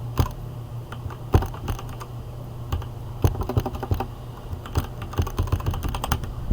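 Keys clack on a computer keyboard as commands are entered in an Ubuntu terminal, with irregular bursts of close, crisp keystrokes over a low steady hum and no talk.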